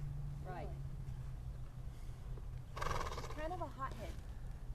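At a riverside horsemanship clinic, a stubborn horse refusing to go forward gives faint, wavering neighs with soft hoof steps under a low steady hum, heard at a distance, while people talk nearby.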